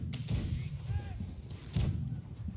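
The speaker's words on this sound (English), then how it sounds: "I wanna use a cannon." Cannon fire from a pirate ship in the multiplayer game BlackWake, with two heavy booming blasts about a second and a half apart over a steady rumbling game background.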